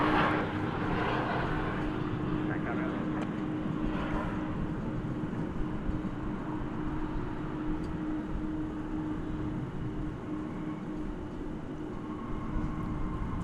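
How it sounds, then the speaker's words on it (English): A passenger airplane arriving at DFW Airport on a flight from Los Angeles gives a steady, loud broadband roar with a faint tonal hum, holding constant throughout as it passes near. "Here comes a flight from Los Angeles."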